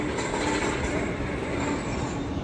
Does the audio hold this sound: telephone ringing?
no